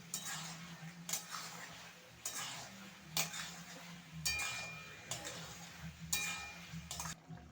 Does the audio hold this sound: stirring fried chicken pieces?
yes